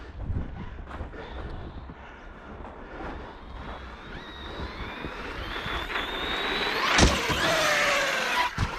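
An Arrma Bigrock 6S RC truck on Proline MX38 Badlands tires drives fast, its electric motor whine climbing in pitch as it speeds away amid wind noise, with a sharp thump near the end.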